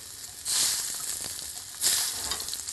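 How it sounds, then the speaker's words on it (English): Scallops sear in butter in a hot pan, giving a loud, close, steady sizzle that swells in two bursts. No voices are heard. "it's getting a nice sear on the bottom, which is what you want"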